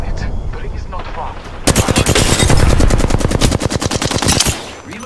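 Rapid automatic gunfire in Apex Legends, a loud, close, steady stream of shots lasting a few seconds after a short lead-in of game sounds, with a voice heard briefly.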